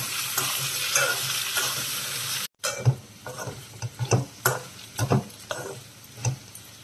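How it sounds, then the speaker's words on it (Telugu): Okra (lady's finger) frying in hot oil for pickle, a dense broadband sizzle with a run of sharper stirring knocks and scrapes; the sound drops out briefly before resuming with spatula strokes. "ఆయిల్ హీట్ ఎక్కాక బెండకాయలు ఫ్రై చేసుకోవాలండి"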